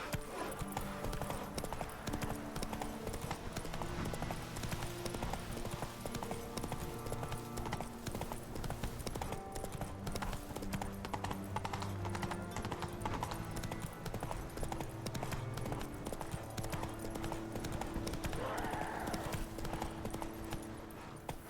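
Rhythmic clip-clop of horse hooves at a gallop in The Witcher 3, steady and continuous over layered game music, with occasional whinnies and a brief bit of speech.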